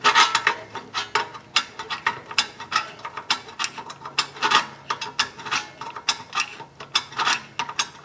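Rear brake caliper piston on a 2018 Nissan Altima being turned back into its bore, giving a steady run of rapid ratcheting clicks, close and fairly loud, with no talking over it.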